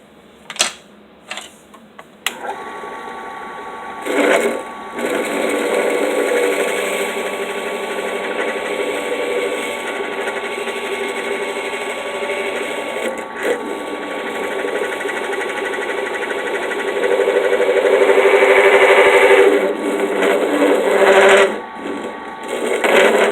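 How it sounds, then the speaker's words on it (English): A small rotary tool with a burr bit whines and buzzes as it grinds out the center of an RC hex hub, with short starts and stops, then long steady cutting passes nearby. "start cutting it very gently on the inside with the burr bit"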